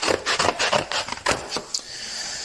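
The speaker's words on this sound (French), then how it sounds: "Donc on va continuer à découper." Paper sheets are cut out for a homemade autumn memory game. Close, raspy snips and scraping rubs come in an irregular, busy run.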